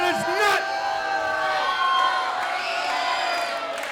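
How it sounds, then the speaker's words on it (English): Wrestling arena crowd at a World League Wrestling event cheering and whooping with steady applause, a dense, sustained roar with scattered shouts and no clear talk over it. "Let's have a round of applause."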